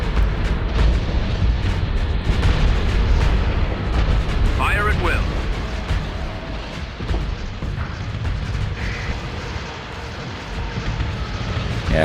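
Starships in Starsector, in a Star Wars-themed battle near a station, trade weapons fire: heavy booming shots and rumbling explosions crowd together, loud and continuous, while someone talks over the barrage.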